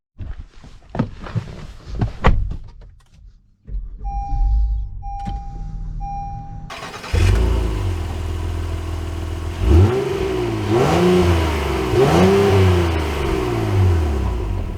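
A 2022 Honda Passport TrailSport is started with a chime and a door clunk, then its engine runs steadily and pulls away, rising through two or three accelerating surges heard from inside the cabin.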